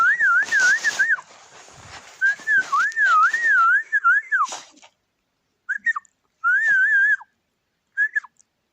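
A person whistles to call a dog, a clear warbling pitched tune in several bursts, the longer ones near the start and shorter calls later, with pauses between them and no talk.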